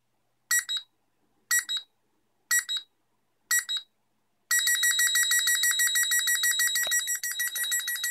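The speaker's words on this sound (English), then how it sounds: "After about 20 seconds, the alarm should sound again," A home security burglar alarm on an Arduino Uno simulator sounds four short electronic beeps at even intervals, then breaks into a continuous rapid pulsing tone, loud and close.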